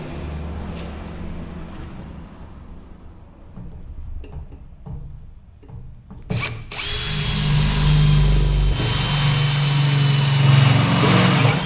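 A power drill drives screws into storage boxes, starting with a few short taps and clicks, then settling into a loud sustained whine that holds for several seconds.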